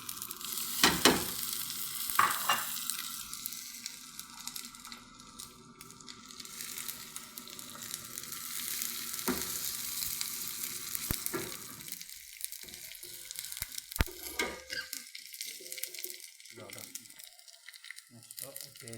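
Urad dal and chana dal fry in a tempering, a soft steady sizzle with scattered crackles and scraping stirs, fairly faint and partly under quiet talk.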